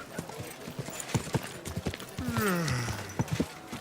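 Horse hooves clop in a steady, close rhythm in the medieval video game Kingdom Come: Deliverance II, with a horse's whinny rising midway over the quick, even footfalls.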